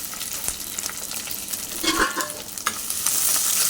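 Shallots sautéing in hot oil with green chilli and curry leaves for a sardine curry, a steady close sizzle with the scrape of a spoon stirring the pan, the frying growing louder toward the end.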